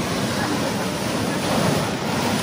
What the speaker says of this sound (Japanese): 波がすごい。